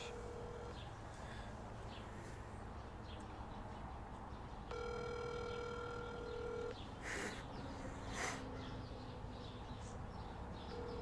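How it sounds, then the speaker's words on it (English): A phone call being placed, with a quiet steady tone, a short burst of dialing, then a repeating ring tone pattern, faint and somewhat distant beneath low room noise, with no one speaking. "he's making the first initial phone call right now"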